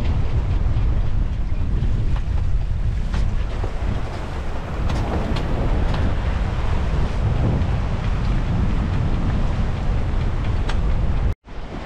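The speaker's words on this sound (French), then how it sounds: "Allez, 14 nœuds de vent." Wind of about 14 knots roars over a sailing boat at sea between Cartagena and Gibraltar, a loud, steady buffeting rush with wave noise, cutting off briefly just before the end.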